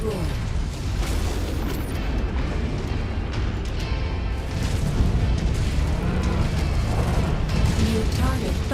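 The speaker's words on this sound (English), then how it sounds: "My last Q's about to explode." A battlemech blows up in Mechwarrior 5: Mercenaries, a dense rumbling roar of booms and bursts rolling on for several seconds, loud and sustained with layered blasts and clatter.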